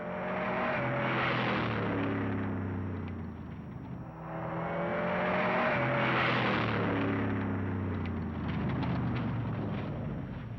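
An Austin 1800 rally car is driven hard on a special stage of the 1968 Shell 4000 Rally, its engine roaring in two long surges that swell and fade as it passes close by, no voices.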